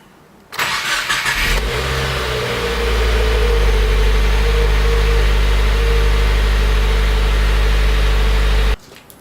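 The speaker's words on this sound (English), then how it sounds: "let the engine run for about 30 seconds to a minute" A 2017 Subaru WRX engine cranks and fires after an oil change, then settles into a loud, steady idle that holds for several seconds before cutting off.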